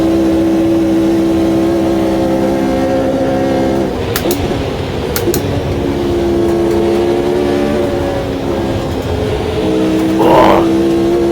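Loud, steady engine drone from 1960s classic race cars in Automobilista 2 at Spa, several cars close together holding high revs with brief gear-change dips and no talking.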